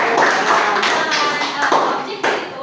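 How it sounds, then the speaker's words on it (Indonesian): A class applauds together, a dense burst of many hands clapping close by that carries on steadily for the whole moment with slight swells, and a voice briefly audible beneath it. "Iya, betul tepuk tangan semuanya."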